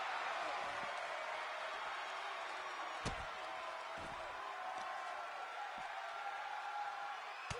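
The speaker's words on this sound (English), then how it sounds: "Thunderous applause for these competitors." Sustained crowd applause and cheering fill a large arena at a professional wrestling event, steady and roaring, with a few sharp thuds cutting through.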